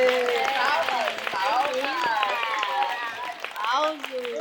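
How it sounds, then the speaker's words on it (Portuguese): An audience gives light applause to welcome guests onto a nursing and gerontology talk show, with a soft wash of clapping sitting under several voices speaking and laughing close by. "Palmas. Muitas palmas"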